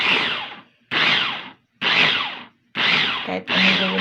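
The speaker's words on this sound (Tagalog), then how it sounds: "Multi-purpose chopper ito mga piso." An electric multi-purpose food chopper whirs in short bursts, five pulses of roughly half a second to a second each separated by brief silences, loud and close, chopping food with a little water.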